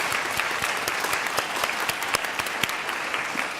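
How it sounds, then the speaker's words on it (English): An audience at a 2017 Louisiana writer award ceremony claps steadily, with individual hand claps standing out in a moderate, even wash of applause and no voices on top. "Let's please give a round of applause for them."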